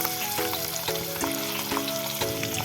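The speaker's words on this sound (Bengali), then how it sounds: "মটন ফ্যাটটাকে এবার আমি 2 থেকে 3 মিনিট ভেজে নেব গরম তেলের মধ্যে" Mutton fat frying in hot oil with turmeric, giving a dense, steady sizzle with faint spoon scrapes and clinks at intervals, close and continuous with no voices.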